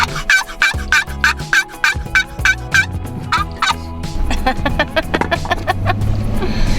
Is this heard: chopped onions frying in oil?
no